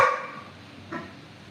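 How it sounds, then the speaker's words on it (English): A single short dog bark at the start, fairly close and moderately loud, followed by a fainter second yelp about a second later over quiet room noise. "No barking."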